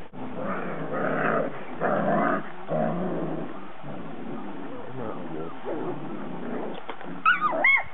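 A dog whimpers and growls in short bursts, close by, mixed with talking voices throughout.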